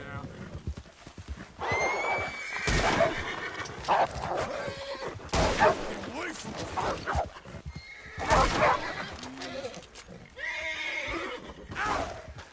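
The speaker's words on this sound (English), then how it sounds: "Thanks, horse." Horse in Red Dead Redemption 2 neighing and whinnying several times among clip-clopping hooves, sharp loud bursts spaced across the scene, with someone talking in between.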